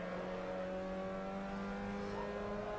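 A race car engine in a racing video game at Vallelunga pulls out of the pits, a steady droning engine tone with layered harmonics that holds constant throughout, with no talking.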